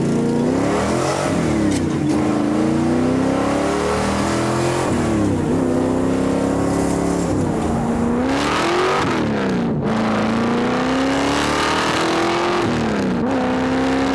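A 1957 Chevrolet 150 post car with a high-powered engine accelerating hard, rising through the gears with several distinct shifts and repeated climbing roars, loud and close throughout.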